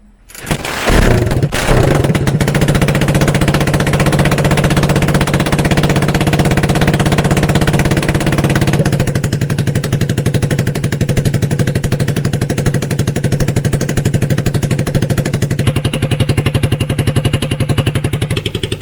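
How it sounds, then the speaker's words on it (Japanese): A Suzuki DR250 air-oil-cooled single-cylinder motorcycle with its exhaust silencer removed, starting up then idling loud and raw with a steady rapid-fire thumping for nearly twenty seconds, close to the microphone. "サイレンサーを外した音を聞いてみました"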